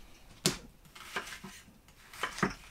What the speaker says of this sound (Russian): Далее надо нарезать лук.